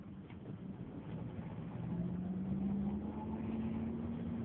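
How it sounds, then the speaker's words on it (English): Rush hour road traffic rumbles in a continuous low drone, with one vehicle's engine rising and passing fairly close against the steady wash of the other cars. "Rush hour traffic, gotta love it."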